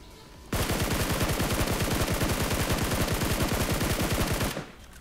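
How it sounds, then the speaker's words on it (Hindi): Rapid automatic gunfire in a battle royale shooter, aimed at an enemy driving a buggy: a loud, steady burst of evenly spaced shots lasting about four seconds, starting and stopping abruptly. "तो मैं इस बगी वाले पर थोड़े से शॉट्स लेता हूँ।"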